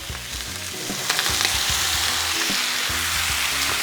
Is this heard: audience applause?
no